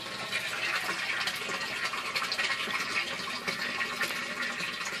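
Water pours steadily into a blue barrel aquaponics tank as its bell siphon fills back up, a continuous rushing, splashing flow with no talk.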